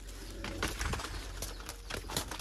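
Pet high-flyer pigeons coo softly nearby in a run of low, repeated calls, alongside faint rustling and wing movement, with no talking.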